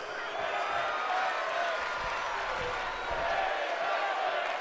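Crowd at a women's professional wrestling event making a steady, continuous roar of chanting and cheering with scattered applause, moderately loud and unbroken throughout, with no clear rhythmic chant pattern standing out.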